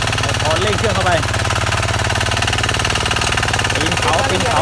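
A small mini tiller tractor engine runs loud and close with a steady, even chug and no clear rise in pitch, while someone talks briefly over it.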